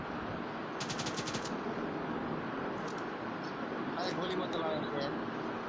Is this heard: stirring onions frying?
no